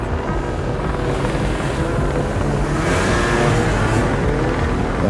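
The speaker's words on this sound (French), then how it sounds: "L'hélico continue à balayer le secteur." A helicopter sweeps over a wooded hunting area, its dense, steady rotor and engine roar filling the air at constant loudness, close and unbroken by speech.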